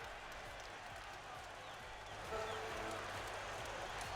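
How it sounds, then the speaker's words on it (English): A crowd at a Trackmania esports event keeps up a constant, distant roar of cheering and applause, a dense wash of noise that swells slightly partway through. "Look at the crowd is going wild in the background."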